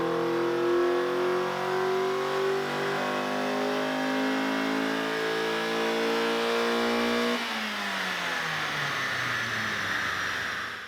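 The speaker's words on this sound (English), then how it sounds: "here's a slightly better sounding dyno pull" A Mazda Miata engine revs steadily and loudly under heavy load during a dyno pull, pitch climbing for several seconds before a shift in tone near the end, no talking.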